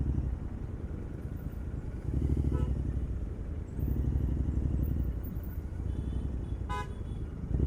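Busy city traffic around a parked motorcycle, with engines idling and rumbling and several short car and bike horn toots rising over the steady drone at moderate distance.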